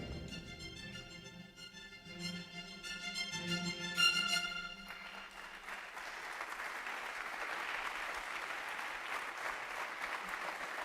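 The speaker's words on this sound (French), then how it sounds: "L'applaudissement provient de l'amphithéâtre de l'Université pontificale du Latran à Rome." An audience applauds in the amphitheatre of the Pontifical Lateran University in Rome, starting with scattered claps and swelling into a steady, fairly distant wash of clapping that continues to the end.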